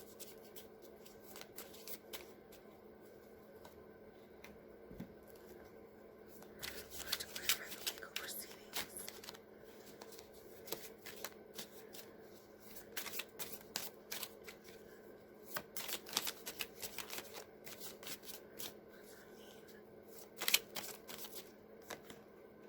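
Tarot cards being shuffled during a true crime reading, with repeated riffling bursts that grow busier and louder in the middle, up close over a quiet room hum.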